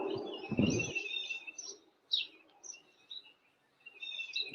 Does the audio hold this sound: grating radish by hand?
no